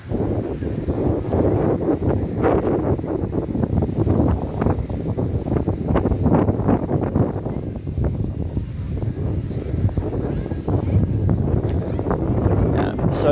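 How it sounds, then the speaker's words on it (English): Strong coastal wind buffets the microphone at Corralejo, Fuerteventura, a continuous loud roaring rumble with gusty swells, and a person speaks intermittently beneath it. "Yeah, it's mega windy."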